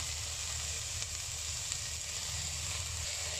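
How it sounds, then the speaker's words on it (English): Prawns frying in butter in a pan, giving a steady, dense sizzle that stays close and even throughout, with no voices. "My prawn is cooked. Prawn with butter."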